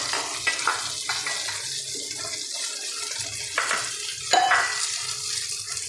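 Eggplant slices fry in a pan with a steady hiss and sizzle, broken by a few louder stirring scrapes and splutters, close by with no voices.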